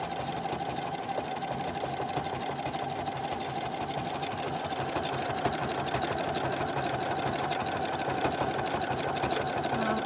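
Sewing machine running a decorative stretch stitch on fleece, a steady rapid needle chatter and motor whir continuing without pause throughout, moderately close.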